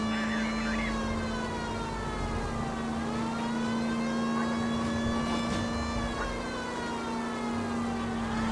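A police car siren in the video game L.A. Noire wails continuously, its steady rising and falling tones sitting over a low engine hum for the whole stretch.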